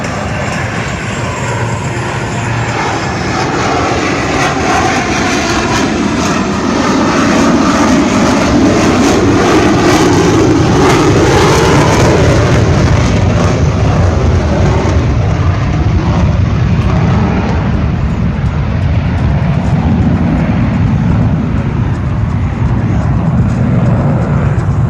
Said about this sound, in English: when he moves out of this manoeuvre with afterburner,